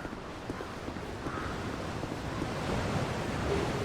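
Ocean surf in Dark Souls 2's Forest of Fallen Giants, a steady broadband wash of waves rising slightly in volume over a few seconds, heard alone with no talk.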